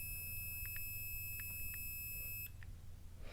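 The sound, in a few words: multimeter continuity test beeping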